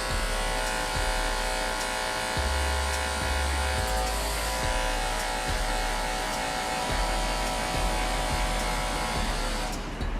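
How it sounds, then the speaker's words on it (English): Andis BGRC hair clippers run with a steady close electric buzz while cutting a mid fade with a number 1 attachment, the motor tone dipping and swelling as the blade moves through hair. "let's get started with our Andis BGRC clippers"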